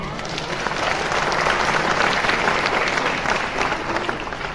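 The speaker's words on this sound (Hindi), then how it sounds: "अब जो आप लोग तालियां बजा रहे हो ना" Audience clapping steadily at a business seminar in Raipur, a dense, even wash of many hands that holds at a constant level throughout with no voices standing out.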